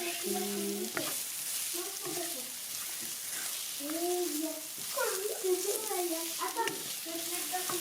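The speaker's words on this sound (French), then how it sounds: "voilà les oignons, enfin l'oignon et les gousse d'ail sont bien réduits" Onion and garlic cloves frying gently on low heat in a home kitchen, a soft steady sizzle with occasional stirring scrapes, faint and close, while people talk over it.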